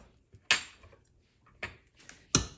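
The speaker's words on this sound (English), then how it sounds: "So what I like doing is I will be using my potato masher again." A potato masher pressing butter in a bowl for an egg sandwich, three sharp clacks spaced apart with faint scraping between, close and otherwise quiet.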